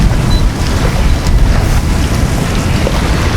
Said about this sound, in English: we've actually got a bit of wind